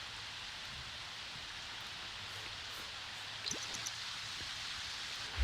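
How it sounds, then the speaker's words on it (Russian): Steady, faint rain falls in a video game where yellowish, toxic rain pours over the scene, a soft even hiss throughout with a few brief drip-like ticks near the end. "дождь все не прекращается"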